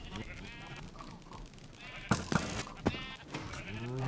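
A Minecraft sheep bleats several times as it is fired from a mob cannon, short wavering cries with sharp impact thuds mixed in, fairly loud and close.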